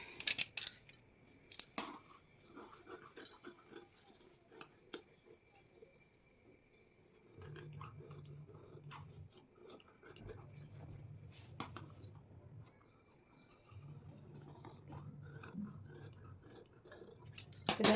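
Scissors snip through blouse fabric in a series of close, crisp cuts that come in irregular bursts. A soft low hum runs underneath and comes and goes.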